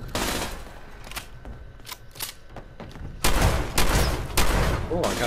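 Gunfire rattles in Fallout 76, starting as scattered single shots and then breaking into dense, loud automatic bursts toward the end, with no talking over it.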